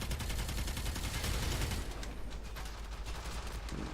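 Twin Kohmak shotguns in the game Warframe fire in a fast, dense stream of blasts that merge into a roaring barrage, loud and continuous, easing slightly partway through.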